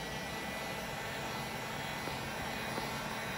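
A heat gun blows a constant, loud roar of air while reheating wrap film to smooth out wrinkles, a steady broadband rush with no breaks through the few seconds.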